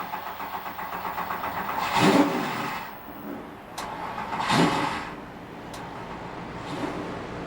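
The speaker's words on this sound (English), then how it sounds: "43 cars come to life." Forty-three NASCAR Sprint Cup race car engines firing up at a Texas oval, heard as broad roaring bursts swelling twice and settling into a steady mid-range rumble, moderately loud with no talking.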